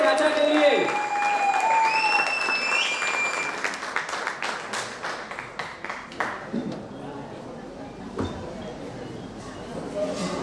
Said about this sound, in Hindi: शानदार तालियां